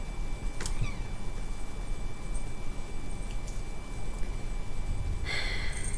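A house cat meows briefly indoors, a short cry standing out against a steady low hum, with a few faint rustles around it and no talking.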